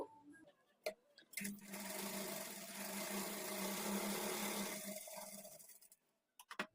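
A sewing machine stitching blouse lining at a half-inch margin starts after a few sharp taps, runs in a steady close whir for about four seconds, then winds down into quiet clicks and handling.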